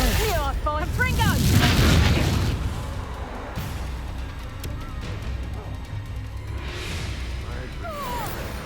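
A Confringo explosive spell in Hogwarts Legacy goes off as a heavy, rumbling boom that swells and fades over a couple of seconds. Quieter game ambience and a speaking voice follow.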